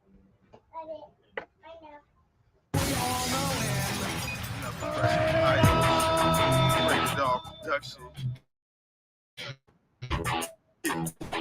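A glass-shatter sound effect from a Stone Cold wrestling entrance, a loud burst of breaking glass that opens into a long crashing, ringing stretch of entrance audio, framed by bits of talk before and after.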